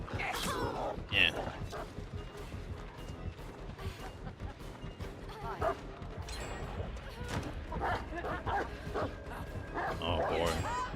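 A dog in a home barks repeatedly during a game livestream, its sharp yips and barks recurring throughout under and between a player's ongoing talk.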